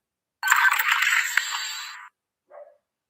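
A bright electronic lightsaber-like power-off whoosh swells and fades over about two seconds, followed by a brief short blip; no voices.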